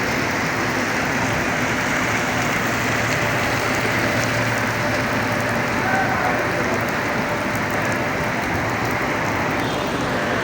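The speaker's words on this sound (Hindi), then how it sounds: "बहुत तेज़ बारिश हो रही है यहाँ पे, देख लें।" Steady, dense downpour of heavy rain in Medina drumming on surfaces, loud and continuous throughout, with no talking.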